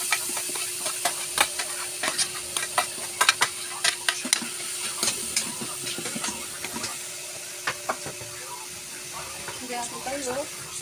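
Onions and carrots frying in a pan for lumpia Shanghai, a steady sizzle broken by repeated sharp clicks and scrapes of stirring, with speech coming and going over the cooking noise.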